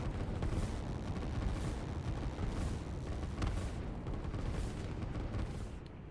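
Artillery fire in the strategy game Line War: repeated booming shots roughly once a second over a continuous low rumble, steady and loud, with no one talking.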